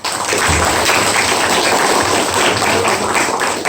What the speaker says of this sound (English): let us appreciate for our sir with some big round of applause